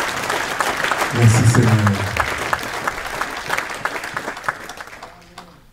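A church congregation claps together as an offering of acclamation, steady crowd applause filling the room while a voice speaks over it; the clapping thins out and fades toward the end.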